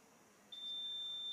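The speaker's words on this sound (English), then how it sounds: "Buzzers." Quiz buzzer at a medical conference quiz, a single steady electronic high-pitched tone that comes in halfway through and holds to the end, fairly faint against the quiet room.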